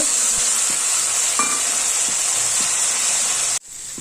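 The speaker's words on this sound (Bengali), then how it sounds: "ওই তেলের মধ্যেই গোবিন্দভোগ চাল ভিজিয়ে রেখেছিলাম, ওটা ভেজে তুলব।" Soaked Gobindobhog rice frying in hot oil gives a loud, close, continuous sizzle with a steady hiss and a few light stirring knocks, cut off abruptly near the end.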